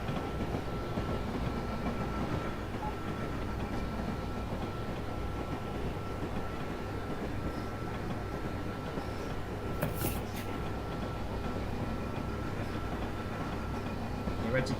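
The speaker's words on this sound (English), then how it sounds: "Alright, so let the train accelerate by itself" Train accelerating in the Train Simulator 2021 video game, a steady low rumble of rail running noise with faint clickety-clack, continuous and moderately quiet throughout.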